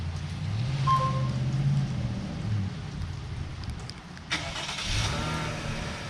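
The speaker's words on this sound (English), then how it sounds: "Starting your Cadillac CT6." A Cadillac CT6 is remote started: a steady low idle hum runs under rain-like hiss, then a sudden broadband surge as the engine fires up near the end.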